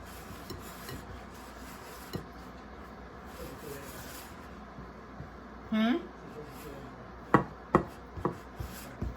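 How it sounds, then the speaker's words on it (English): Pizza dough of Greek yogurt, baking soda and salt being mixed by hand in a bowl gives soft rubbing and scraping strokes, with a few sharper knocks near the end, while voices murmur in the background. "I'm just going to mix that all up to make the dough."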